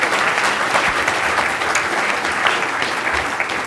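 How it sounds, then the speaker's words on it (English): Loud, sustained applause from a conference audience for a space-industry panel, a thick continuous roar of many hands clapping that stays even from start to finish. "A hand of applause for the audience,"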